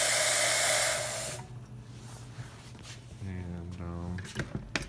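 Loud steady steam hiss from a La Pavoni lever espresso machine wand that cuts off after about a second and a half, followed by quieter room sounds and brief talk.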